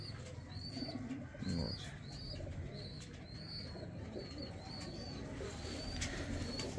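Pigeons coo in a steady, repeating series of soft calls at moderate distance over a faint outdoor background, with a brief voice near the end.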